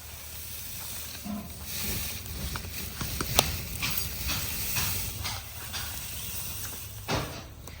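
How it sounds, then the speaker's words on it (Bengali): A clay stove being lit to boil date palm sap gives off a steady hissing, crackling rush, with scattered sharp pops and snaps over a low continuous roar, nearby and moderately loud. "এবার উনুন ধরিয়ে দিই, তারপরে ভালো করে জাল দেবো রসে"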